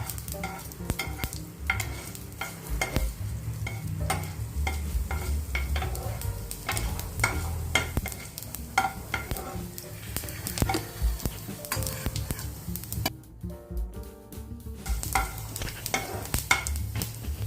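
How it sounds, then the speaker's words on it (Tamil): Fenugreek seeds and urad dal are dry roasted in a pan, giving a continuous close scraping and rustling as they are stirred, with a light sizzle and no talk. "இப்போ வெந்தயத்தையும் உளுந்தம்பருப்பையும் சேர்த்து வாசம் வர வரைக்கும் நல்லா கொஞ்சம் செவக்கரை வறுக்கணும்"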